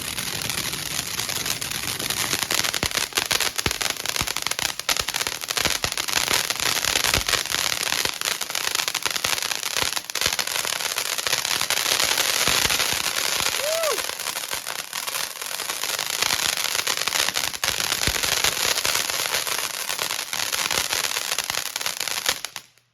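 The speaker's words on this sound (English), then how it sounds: "that was some crazy crackle there" A firework fountain from a consumer firework assortment crackles outdoors in a dense, loud stream of popping crackles that lasts nearly the whole time before tapering off at the end.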